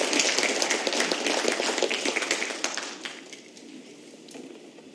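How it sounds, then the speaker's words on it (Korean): An audience at a mock impeachment trial forum claps to welcome the Democratic Party leader, a dense burst of applause that holds steady and then thins out and fades away. "박수로 환영해 주시기 바랍니다"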